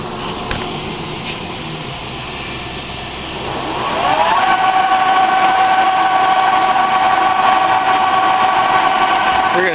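A horizontal boring mill taking a facing skim cut, machine hum rising after a few seconds into a steady whining cutting tone with a sustained high pitch, close by, with someone speaking over it.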